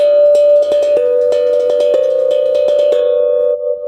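A tongue drum rings a steady sustained note while quick metallic taps strike a rhythmic pattern over it, close and loud, fading at the end.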